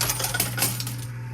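Coins cascade and clatter in a high limit coin pusher on a mega duck coin wall: a dense, steady metallic jingling of many coins dropping at once, close and continuous, with no talk.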